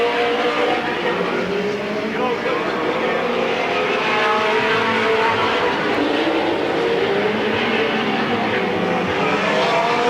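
Stock race cars roaring around the track at Midvale Speedway during the 1995 Fall Classic, a dense continuous engine drone with rising and falling pitch heard at a distance under crowd ambience.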